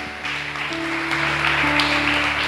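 A congregation claps continuously during a home church service, a dense steady patter of many hands under sustained organ or keyboard tones, fairly close and filling the room.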